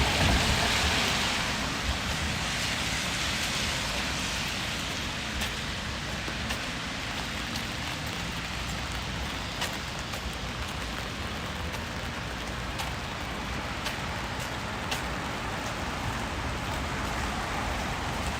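Steady rain falls outdoors in a constant hiss, with scattered louder drops pattering on nearby surfaces.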